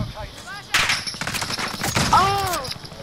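Rapid gunfire in a shooter video game, several sharp close shots in quick bursts mixed with game effects, with players talking excitedly over them.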